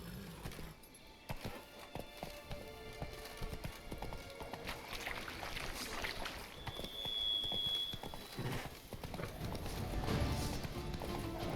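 Horse galloping in the video game Witcher 3: Blood and Wine, rapid hoofbeats clopping over ambient game sound, fairly faint, with a brief whinny-like tone in the middle.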